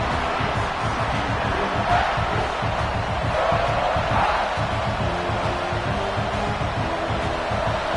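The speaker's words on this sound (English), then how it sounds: "This crowd bringing the energy and noise early." A large stadium crowd roars continuously in a dense, steady wash of cheering and noise, loud and unbroken, from a college football video game, NCAA '26.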